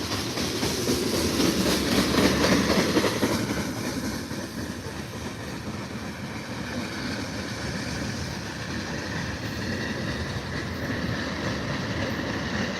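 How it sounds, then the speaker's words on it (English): An Amtrak California Zephyr passenger train rolls into a station in Ottumwa, Iowa, a loud broad rumble peaking early then settling into a steady mechanical roar with rail noise, no talking. "here comes Amtrak."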